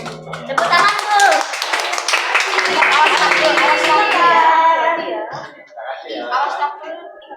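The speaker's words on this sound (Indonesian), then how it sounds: "Tepuk tangan tuh." Children clap their hands during a combined church Sunday school class, a dense, lively patter of claps lasting several seconds, mixed with kids' voices and chatter before it fades.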